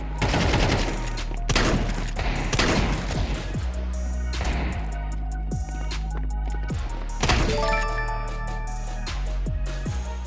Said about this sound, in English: The Nova shotgun is the cheapest shotgun option, but from extremely close range, it can kill in one shot to any body part